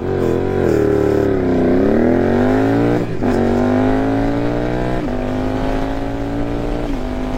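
A Suzuki GSX-8S motorcycle accelerates hard from a standstill toward 100 km/h, its engine note climbing loud and close before dropping at each gear change. Several rising pulls come in succession, with no talking.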